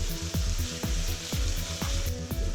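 Potatoes frying in oil, a steady bright sizzle under a regular series of low thumping knocks about twice a second, close and loud.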